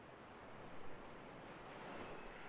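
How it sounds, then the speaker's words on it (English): Water and rain ambience in the Dragon Age Inquisition video game: a faint, steady wash like surf or rain hiss, continuous with no talking. "why do I hear water and rain?"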